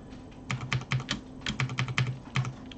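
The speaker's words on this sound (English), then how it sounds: "So I'll just use my keyboard here" Keys tapped on a computer keyboard in short irregular clusters of crisp clicks, close and clear, with brief pauses between bursts and no talk.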